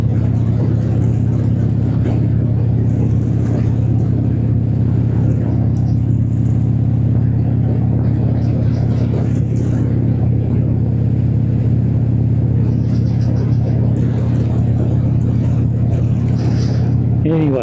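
A motorbike with a rider and passenger cruises on a highway near Waikerie, its steady engine drone humming low and loud with constant wind rumble throughout, and a voice talks over it.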